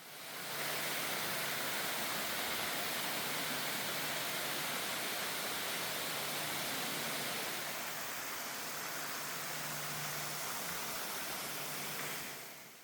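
Indoor waterfall in a greenhouse, heard as a steady, broad rushing roar of falling water, even and continuous with a slight shift midway, with no voices.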